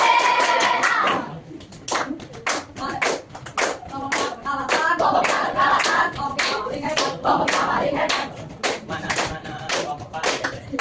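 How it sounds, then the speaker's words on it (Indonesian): A classroom of students claps hands in rhythmic patterned bursts, sharp close claps in quick sequences broken by short pauses, with children's voices chanting and talking among the claps. "Tepuk tangan, tepuk kiri,"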